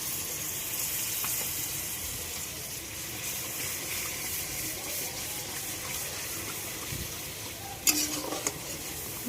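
Chicken and potatoes frying in a pan with spices and a splash of spice-bowl rinse water, giving a steady close sizzle and hiss throughout, with a brief clatter and splash near the end.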